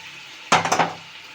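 Dried fish and vegetables are stirred in a pan: after a quiet moment, a short burst of scraping and clattering against the pan lasts about half a second before fading.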